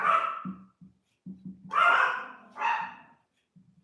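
Yorkshire terriers barking at the door, a few sharp barks in quick bursts separated by short pauses, close and fairly loud, with panting or breathing sounds between them.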